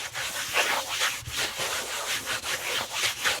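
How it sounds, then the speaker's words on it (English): Rubbing alcohol wiped across a wall by hand inside a truck camper, heard as close, steady rhythmic rubbing strokes repeating back and forth with no talk. "I'm gonna wipe the wall here down with some rubbing alcohol to get all the grime and dirt off of it"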